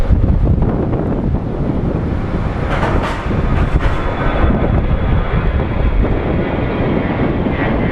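Strong wind buffets the microphone at Phoenix Sky Harbor Airport, a loud, continuous roar with gusty swells and no talk.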